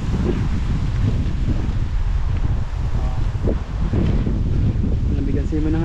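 Steady wind over a river buffeting the microphone with a constant low roar, and faint rustling underneath.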